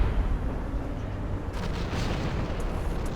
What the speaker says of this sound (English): Time to call in that Macross cannon.